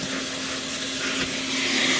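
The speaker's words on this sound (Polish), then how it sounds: "powiem, że siła odkurzacza jest naprawdę zadowalająca" The built-in vacuum cleaner of a 2022 Chrysler Pacifica Limited 3.6 V6 runs inside the van, giving a steady, close whooshing whine with a faint engine hum underneath.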